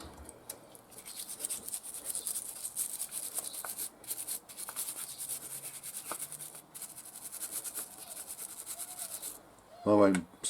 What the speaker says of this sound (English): I won't subject you to watching me scrub dirt off a carburetor.